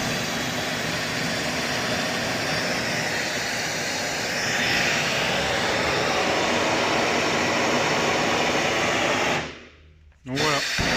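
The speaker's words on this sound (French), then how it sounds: "Je vais vous faire écouter l'air qui rentre à l'arrière du tube." A gas-fired hot-air weed burner tube roars steadily and loudly as air rushes into its rear opening, then cuts out briefly near the end before returning.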